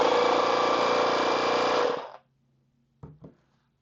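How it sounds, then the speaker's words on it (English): A GooLoo GT160 dual-cylinder tire inflator compressor runs with a loud, even, buzzing mechanical whine for about two seconds, then cuts off abruptly, followed by silence and two short clicks. "if you press it again, it is actually going to start to use the compressor."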